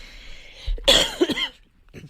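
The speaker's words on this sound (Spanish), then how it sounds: "Las toses, perdón." Two or three quick, harsh coughs close to the listener, followed by a faint breathy rasp.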